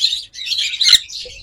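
High-mutation pet birds in a cage give rapid, overlapping high-pitched chirps and tweets, near and bright, with one sharper call rising out of the chatter.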